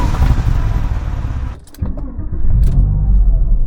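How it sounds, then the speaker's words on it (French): A car engine turns over on a cold start, churning loudly through several revolutions before a short dip, then catching and settling into a low, steady running rumble. "Voilà un démarrage à froid et écoutez bien comment le moteur ne va pas démarrer au quart de tour."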